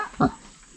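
A pig on a small clean farm gives one short, low grunt close by, with quiet background around it.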